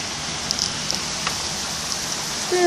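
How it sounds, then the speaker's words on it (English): Heavy rain pouring onto a flooded street, a steady broadband hiss of drops with no letup, loud and close throughout. "Dude, look at all that rain."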